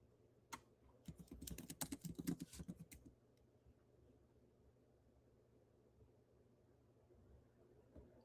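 Typing on a computer keyboard, a quick burst of key clicks close by for a couple of seconds, then a quiet room with a low steady hum and one last click near the end.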